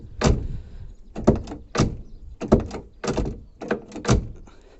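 The car door of a Tavria, just after hinge adjustment, is swung back and forth and bumps shut repeatedly, giving a series of close metallic thunks and rattles in an irregular rhythm, about eight knocks.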